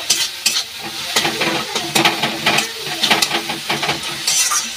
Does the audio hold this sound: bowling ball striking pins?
no